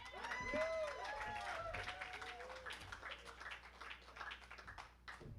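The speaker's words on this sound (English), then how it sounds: "how about a round of applause to every person that put a bid in tonight?" A gala audience at an Elizabeth House fundraiser applauds, a soft, fairly distant spread of clapping mixed with whoops and crowd voices that carries on for several seconds.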